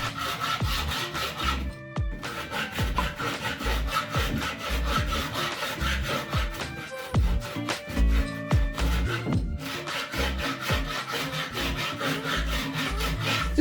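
Repeated rhythmic rasping strokes of a hand tool working wood, close up, with brief pauses between bursts of scraping.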